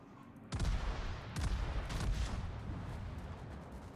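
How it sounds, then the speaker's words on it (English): A warship fires broadsides in a naval video game: two heavy, booming salvos land about a second apart, each followed by a long rumbling tail. "Let's get another broadside on him."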